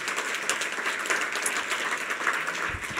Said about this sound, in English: So let's give the ARF team a round of applause.